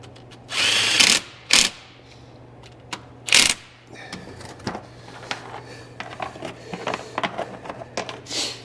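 A power tool tightens engine bolts on a Bennche 500 with a knocking, smoking motor: several short loud whirring bursts, then softer clicks, taps and clattering of parts close by, with no talk.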